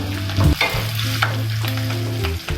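Garlic, ginger and curry leaves sizzle loudly in hot oil for a Kerala jackfruit-seed curry, with stirring scrapes over a steady low hum.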